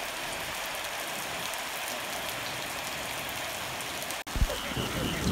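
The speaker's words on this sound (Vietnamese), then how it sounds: "Trời mưa rồi." Steady rain falling on a rainy-season evening in rural Vietnam, a dense even hiss throughout, briefly cut by a dropout near the end with a soft thump.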